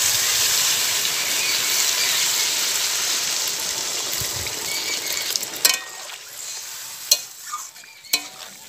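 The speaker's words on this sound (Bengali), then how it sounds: "এবার আমি এর মধ্যে দিয়ে দিলাম পরিমাণ মতো জল।" Water poured into a pan of spiced potatoes and vegetable stems sizzles and hisses loudly and steadily, then quietens after a few seconds, leaving a low simmer broken by a few sharp stirring clinks.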